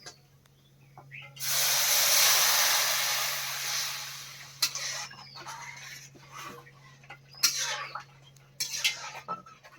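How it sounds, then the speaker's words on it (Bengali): Water poured into a pan of lightly fried lentils bursts into a loud hissing sizzle that fades over a couple of seconds, followed by clinks of pots and utensils, with no talking. "এবার জল দিয়ে দিচ্ছি।"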